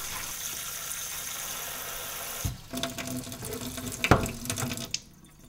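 Water is poured into a wheatgrass growing tray: a steady rushing stream at first, then breaking into splashes, drips and light knocks of handling, with no voices.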